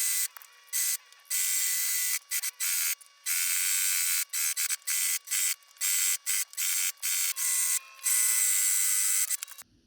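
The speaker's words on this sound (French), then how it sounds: "ensuite on va passer un point de couture sur les 4 côtés" A sewing machine stitches quilt batting to layered fabric, running in rapid bursts of high whirring that stop and restart repeatedly, close and fairly loud with no talking.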